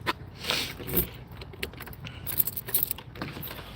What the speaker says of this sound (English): who the hell wants to hear clanging keys?